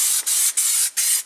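Aerosol spray paint hisses in four bursts separated by short pauses, loud and close, while a 1970 AMC Gremlin is given a quick coat.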